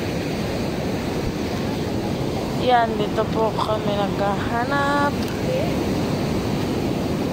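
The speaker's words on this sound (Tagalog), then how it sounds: "Tapos ayan lang po yung dagat." Sea surf rolls onto a sandy beach as a steady, wind-blown wash of noise, with people talking over it.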